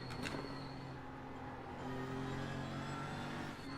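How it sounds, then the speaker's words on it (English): A GT3 race car engine at the Nürburgring at night in the iRacing sim, a steady, sustained drone with a brief sharp burst at the start and a slight rise in pitch later, heard alone. "Just trying to get used to GT3s in iRacing again around Nurburgring and in the dark."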